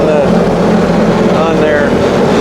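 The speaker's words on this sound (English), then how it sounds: "it revved when I pulled that, and that's not the throttle" A mini jet boat engine on its first run in the boat revs loudly and close, a rough, buzzing roar with a rising tone near the end.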